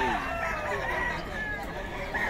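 A Boston White fighting rooster crows at a busy market in Bocaue, a sustained, strained call heard close over a constant murmur of crowd noise.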